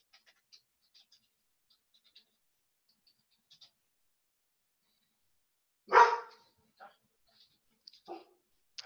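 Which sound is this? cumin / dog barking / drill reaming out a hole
dog barking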